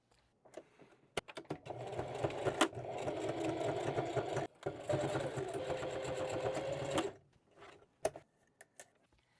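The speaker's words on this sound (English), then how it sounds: "Now I'm going to sew along the length of each side of my strap" A sewing machine top stitches along the edge of a fabric tote bag strap, running steadily for several seconds with short pauses and a few clicks, close and fairly loud.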